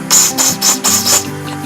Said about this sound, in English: And in here, every hole, you have to put carburetor cleaner through it.